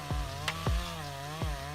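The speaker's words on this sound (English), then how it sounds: "The chainsaw roared, cutting into the trunk of a towering cedar tree more than 200 years old" A chainsaw cuts into the trunk of a towering cedar over 200 years old, nearly 3 meters around, giving a steady droning whine broken by several sharp rising revs, close and fairly loud with no talk.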